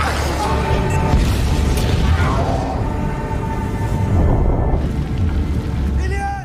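A fuel tank blows up in a film with a large explosion: a loud, sustained rumbling boom that fills the whole stretch and trails off at the end.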